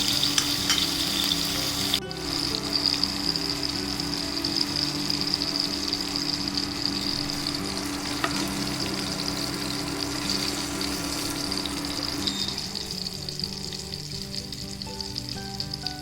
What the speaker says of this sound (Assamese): মই এতিয়া অলপমান কেপচিকাম এনেকৈ ফ্ৰাই কৰি দিছোঁ